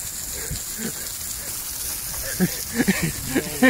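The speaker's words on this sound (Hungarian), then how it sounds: "Itt mi eső van?" Rain falls in a steady wash of hiss outdoors, fairly loud and constant, with a few heavier drops and patter toward the end.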